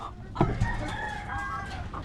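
Chickens clucking and squawking close by, a couple of sharp calls rising over a steady farmyard murmur.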